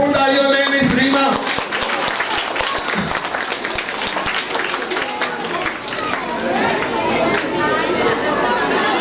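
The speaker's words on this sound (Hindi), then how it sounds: "आप सबकी भरपूर तालियों में" A crowd at a school student event claps steadily in loud, continuous applause, with chatter and cheering voices mixed in throughout.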